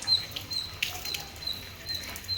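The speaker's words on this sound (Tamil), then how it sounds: "இங்கே போய் இம்மா நல்ல மழை பிடிச்சிக்கிச்சு" Rain falls outdoors onto a freshly drawn kolam in front of a house. A steady, soft hiss of patter is broken by scattered brief drips and taps, with no talking.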